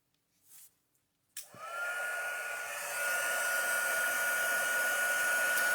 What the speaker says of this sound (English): we're going to use our heat tool to emboss that